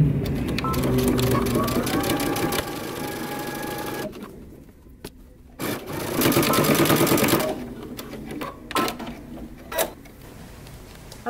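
A sewing machine stitches wide leg pants in repeated bursts of motor whirring with brief pauses between runs, close by, while someone talks over it.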